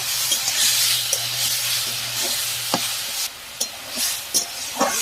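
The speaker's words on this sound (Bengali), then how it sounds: "এবার ভালো করে ভেজে নেব" Cabbage and freshwater snails with salt and turmeric sizzling steadily in a hot pan, with occasional sharp crackles and the scrape of stirring, no voices.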